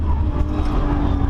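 A Nissan GT-R Nismo pulls away at the start of a lap on the Nürburgring Nordschleife, its engine a loud, steady roar for a brief moment.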